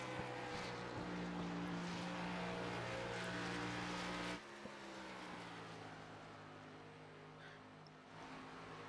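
Race cars circling a 1.5-mile oval track in Las Vegas, a steady loud engine drone with overlapping pitches that drops and shifts midway as cars pass, no talk.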